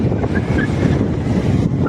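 Steady, heavy wind rumble buffets the microphone throughout, a constant roaring whoosh with no pauses.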